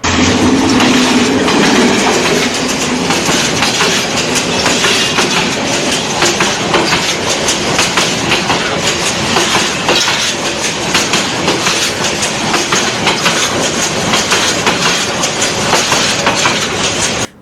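A train rolls steadily along the rails, a continuous loud rumble with rhythmic clattering wheels, close by and unbroken for the whole stretch.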